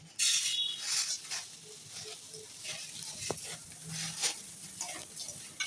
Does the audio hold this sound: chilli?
yes